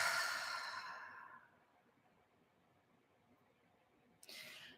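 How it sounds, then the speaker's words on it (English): A long, deep exhale breathes out softly and fades over about a second and a half, followed by quiet and then the start of another breath. "let's take a breath in and out"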